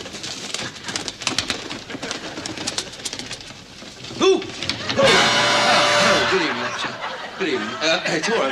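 Pigeons coo in a 1973 Two Ronnies Christmas comedy sketch, rounded throaty calls breaking through busy chatter and chuckling, with a studio audience laughing loudly midway.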